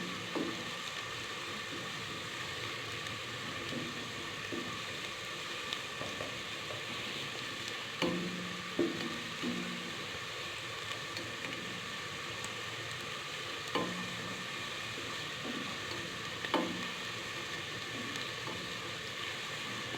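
Ginger, garlic and onion frying in a pan, giving a steady soft sizzle with occasional faint clinks and stirring scrapes, fairly quiet and without voices.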